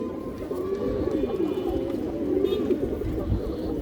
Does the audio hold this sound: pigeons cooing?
yes